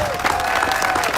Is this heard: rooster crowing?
no